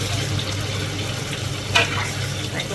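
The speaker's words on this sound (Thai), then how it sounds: "ผ่านน้ำมันหน่อยแค่นั้นนะคะ ลงไปทอดนะคะ" Meat frying in a pan of oil gives a steady, close crackling sizzle with a low hum underneath and one brief sharper splatter partway through.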